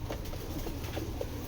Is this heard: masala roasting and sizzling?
no